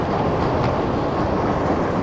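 A loud, steady rumble of a Chicago subway train in motion, dense roaring noise from the carriage with no speech.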